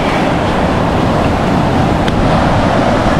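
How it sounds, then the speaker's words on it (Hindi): Sea waves crash and wash onto Hawke's Bay beach in a loud, continuous roar of surf, close and unbroken, with wind buffeting the microphone and no talking. "जब पानी आके यहाँ टकराता है"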